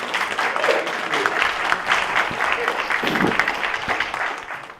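An audience applauding at a theatrical performance, a steady wash of clapping hands from a small crowd that carries on evenly for several seconds, with a faint voice briefly underneath.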